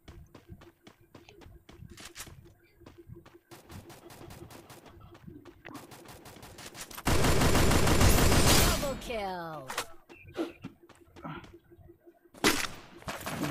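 Desert Eagle and other gunfire in the Free Fire mobile game, rapid bursts of sharp shots clustered in volleys, with a loud sustained blast and fading whistles midway, under a player's running commentary.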